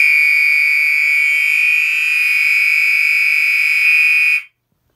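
A fire alarm sounds during a walk test of a fire alarm system after a detector is activated, giving a loud, steady, continuous tone that holds for about four seconds and then cuts off abruptly.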